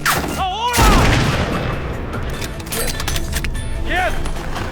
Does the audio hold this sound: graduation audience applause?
no